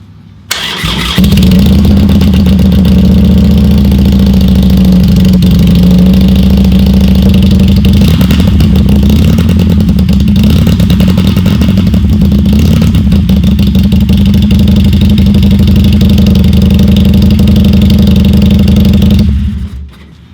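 A Harley-Davidson Sportster engine fitted with a TBR 2-into-1 aftermarket exhaust starts and settles into a loud, deep, throaty idle that rumbles steadily for many seconds before cutting off.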